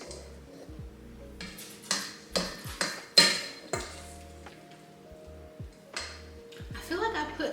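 A scoop clatters into dry oats for oat milk in a Canoly C16 juicer setup, giving several sharp, close scraping knocks and rustles at uneven intervals, with a low steady hum underneath.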